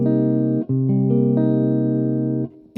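A jazz minor 7th chord with its root on the 5th string rings out on a guitar, strummed and held for a couple of seconds with a slight re-attack, close and clear, with no voice.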